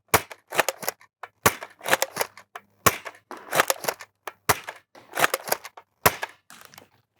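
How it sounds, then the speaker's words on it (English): A Dart Zone Pro Mk1.2 spring blaster fires target darts downrange in about eight sharp, snappy shots. Each shot has a short clatter of handling between, the pace is irregular, and the sound is close and clear with no talking. "let's put some target darts downrange, some max darts, if you will"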